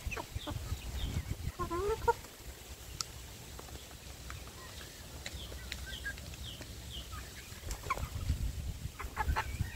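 Young native village chickens roam a free-range enclosure, giving scattered soft clucks and short calls at a moderate distance, faint and intermittent over low background rumble.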